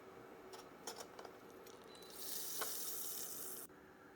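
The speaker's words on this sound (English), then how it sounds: "melt 2 tablespoons of butter" Two tablespoons of butter go into a skillet over medium heat and start to foam, giving a soft hiss that swells midway, runs steadily for about a second and a half, then cuts off, with faint clinks just before it.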